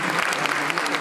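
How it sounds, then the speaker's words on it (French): Steady applause from a beauty pageant audience, dense and continuous clapping filling the whole brief moment at close range. "Je vous demande d'applaudir très fort, s'il vous plaît."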